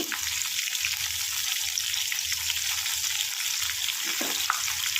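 Crab deep frying in oil sizzles with a constant bright hiss, while low bubbling pulses rise and fall at a steady pace beneath it.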